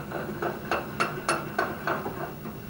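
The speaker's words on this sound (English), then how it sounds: "Now I will put it in a vise," A wood vise being tightened on a piece of wood, a run of regular clicking, ratcheting knocks about every third of a second, close and moderately loud over a quiet room.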